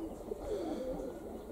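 Budapest pigeons in a loft coo softly and steadily, a low, continuous murmuring of overlapping calls with no talking.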